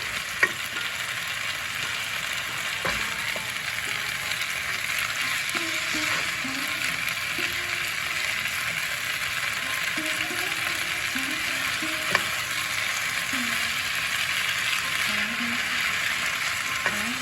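Mixed leafy greens (pui, kalmi and red shaak) fry dry over a raised flame, giving a steady close hiss and crackle broken now and then by the clack of a spatula against the pan.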